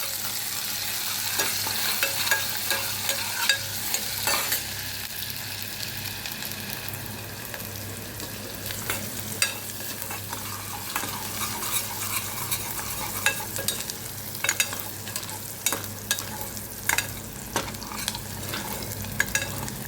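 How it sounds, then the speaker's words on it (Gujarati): Onions frying with asafoetida in a pan, a steady sizzle and crackle punctuated by repeated scraping stirs of a spoon against the metal, close and continuous with no talking. "જો ડુંગળી આપણી બ્રાઉન થવા માંડી છે"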